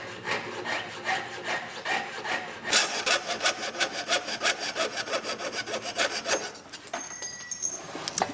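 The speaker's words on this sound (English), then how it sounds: "You always know if you're using your jeweler saw appropriately is by the sound." Jeweler's saw blade cutting through metal, a steady rapid back-and-forth rasp of even strokes, close and clear, picking up pace and brightness midway before easing off near the end.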